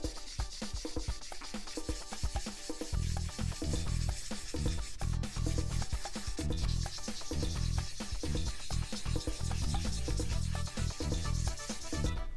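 Fingers and a cloth rub and polish the painted body of a Tamiya 1/12 Fairlady Z 240ZG model car, giving a close, continuous gritty scrubbing and squeaking with busy rhythmic strokes and no voice.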